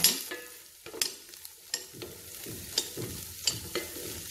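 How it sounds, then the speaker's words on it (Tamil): Vegetables with salt being stir-fried in a pan for chicken fried rice, a soft steady sizzle broken by repeated scraping strokes of a spatula at a loose, regular rhythm, close up with no talk. "சேர்த்துட்டு இதையும் நல்லா வதக்கி விடலாம்"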